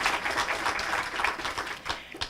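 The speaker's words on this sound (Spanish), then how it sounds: "Un aplauso por su exposición." An audience applauds after a talk on ethics in the child rights protection system, a sustained wash of clapping from many hands at moderate level, tapering slightly toward the end with a few sharper claps.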